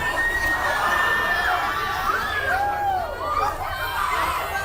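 An audience at a live event shrieks and cheers during a call-and-response group game, a dense, sustained wall of screaming voices and chatter, loud and close.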